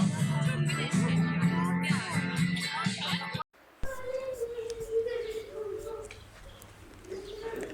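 Birds call close by, including a dove's low repeated cooing, mixed with bright chirps and some background voices.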